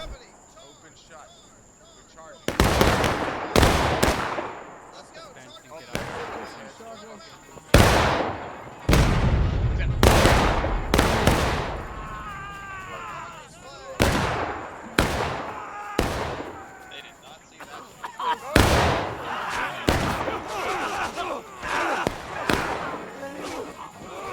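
Gunfire in a Maryland Campaign video game battle with about 280 players: loud volleys and single shots crack at irregular intervals, some close and sharp, with distant rattling fire and a steady battle din between them.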